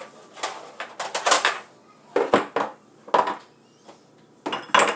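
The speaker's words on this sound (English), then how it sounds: "I'm just going to go ahead and get my pot on the stove" A pot is handled and set on a kitchen stove, producing clusters of close metallic clanks and knocks in several bursts with short quiet gaps between them.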